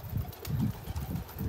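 Pet pigeons on a terrace, fed purslane, give soft low rhythmic coos repeating every half second or so, faint and close.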